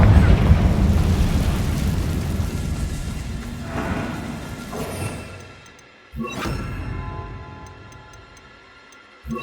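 In Hogwarts Legacy, a Confringo fire spell explodes with a loud rumbling boom that slowly fades. After a brief gap, a second sharp blast bursts out and decays, followed by faint ticking.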